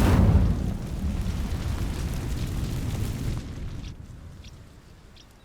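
An Incendio fire spell in Hogwarts Legacy bursts with a loud whooshing blast at the start, then a sustained crackling roar of flame that fades away over several seconds.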